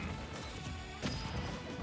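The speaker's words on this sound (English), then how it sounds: "Yeah, there's that explosion." A sudden explosion blast in Super Smash Bros. Ultimate during a Winners Finals tournament match between Wolf and Snake, a single sharp crash near the middle rising briefly above dense, steady game noise.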